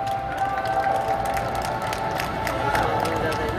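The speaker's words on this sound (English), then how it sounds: "A round of applause, please, for Al-Muhammadiyah compound." A parade crowd applauds and cheers a school team entering the grounds, steady clapping with a few sharp individual claps over a background of music and crowd murmur.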